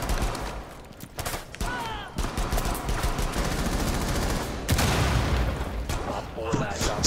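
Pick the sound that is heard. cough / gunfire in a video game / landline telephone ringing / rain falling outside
gunfire in a video game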